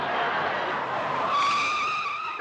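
Car tires skid across pavement in a short, loud screech that builds into a sharp, rising squeal near the end, heard alone without talk.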